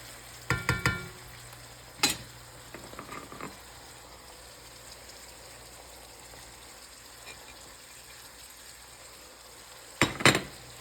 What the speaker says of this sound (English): And let it cook in the spices for about 3 to 4 minutes more